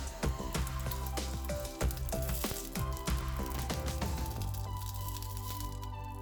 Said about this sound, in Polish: Placek smażymy na złoty kolor po 3-4 minuty z każdej strony.